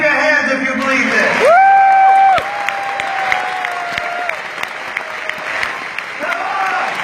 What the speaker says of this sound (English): Clap your hands if you believe this.